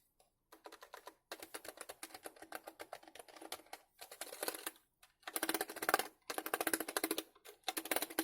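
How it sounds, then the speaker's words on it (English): Typing on an A+ Office KO1 wireless membrane keyboard, a close run of soft, quick key clicks in bursts separated by short pauses, alone with no talk. "The keys feel nice and solid, as you would expect from any good membrane keyboard."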